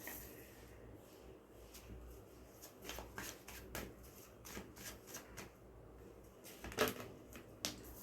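Tarot cards being shuffled by hand, a soft papery riffle and flutter in quick irregular bursts, close and quiet, with a sharper snap near the end and no talking.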